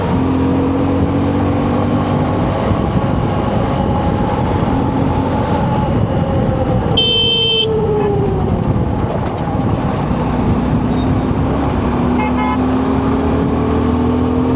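A 125cc motorbike running fast along a road, a loud steady engine roar with shifting tones as it moves, heard close and continuous without talk.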